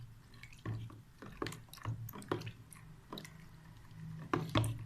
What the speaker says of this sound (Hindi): पानी में हम डालेंगे जी सल्फ्यूनिक एसिड ऑयल। अब इसको ना हम आहिस्ता आहिस्ता मिक्स करेंगे